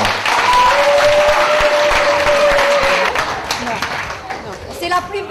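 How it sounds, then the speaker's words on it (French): Audience applauding loudly at the opening of an evening event, a sustained dense wash of clapping from a large crowd that tapers slightly toward the end, with faint voices mixed in. "On l'applaudit très fort, maman"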